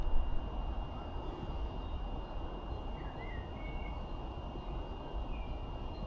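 A SpeedyBee Mario Mini 40 sub-250 FPV drone hovering at about 20% throttle, giving a steady, faint whirring hum of small props with a thin constant tone, no voices.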